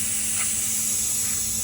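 Air hisses steadily out of the tyres of a Renault Twingo being lowered, a continuous loud close-up rush of escaping air with no break.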